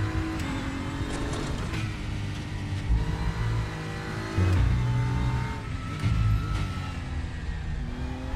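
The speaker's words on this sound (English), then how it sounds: "Why is the AstroTurf making curb sounds?" A Porsche Cup race car in the RaceRoom racing video game runs over AstroTurf at the track edge and produces curb-style rumble. The engine drone rises and falls through gear changes and short tire scrubs, with no talking.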